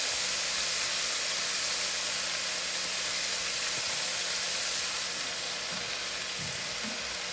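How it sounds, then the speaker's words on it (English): Spaghetti noodles sizzling in a hot oiled pan, a steady broadband hiss holding even throughout with faint stirring bumps near the end, no voices. "The pan's hot enough that it causes this sizzling sound."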